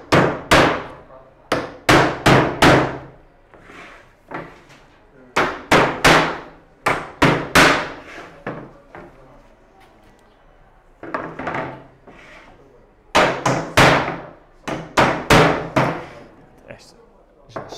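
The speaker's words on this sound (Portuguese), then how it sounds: "que eu pensava que já tinha martelado, mas afinal não" Hammer blows strike reclaimed wood in bursts of sharp, loud knocks at an uneven rhythm, with pauses between the groups, while building a vegetable garden planter.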